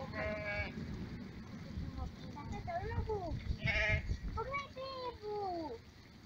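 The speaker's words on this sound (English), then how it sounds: "Baby sheep." Several high, wavering bleats from young sheep, some overlapping, close by, with low background rumble and a bit of voice between them.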